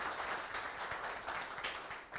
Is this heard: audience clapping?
yes